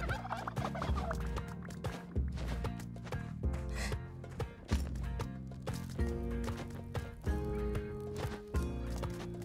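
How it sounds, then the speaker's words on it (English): Turkeys gobbling in the Spelunky 2 video game, repeated short gobbles and clucks over busy, rhythmic game music with clopping percussion, fairly loud throughout. "Don't mind these turkeys that I'm holding."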